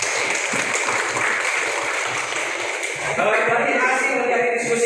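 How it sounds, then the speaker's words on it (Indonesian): A classroom group applauds together, a continuous crackle of clapping that swells louder in the last couple of seconds, with voices mixed in underneath. "Tepuk tangan untuk kita semua"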